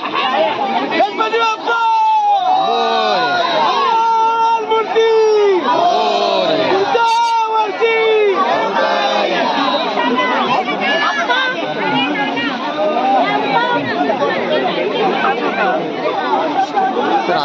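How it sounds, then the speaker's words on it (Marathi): A dense crowd chatters and calls out loudly and continuously during a Ganpati immersion procession in Konkan, with many overlapping voices and occasional shouts. "आता इकडे गर्दी झाली"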